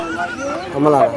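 Goats bleating loudly nearby at a livestock market, a wavering, drawn-out call that rises toward the end with no other sounds.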